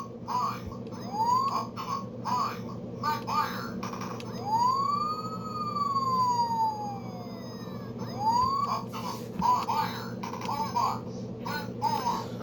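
An Optimus Prime toy truck's siren wails repeatedly, rising and falling in long electronic sweeps, moderately loud over a steady background hum.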